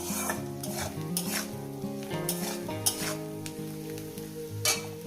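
Mashed amla (Indian gooseberry) fries gently in a pan over low heat, a soft steady sizzle broken by repeated scraping and stirring strokes of a utensil against the pan, with a faint hum underneath.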